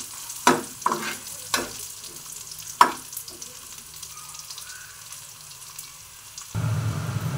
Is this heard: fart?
no